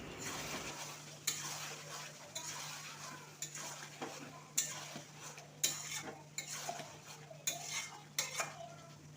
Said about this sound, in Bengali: পাতিলেবুর রস দিয়ে চিকেনের সাথে ভালো করে পাতিলেবুর রসটা মিশিয়ে নিচ্ছি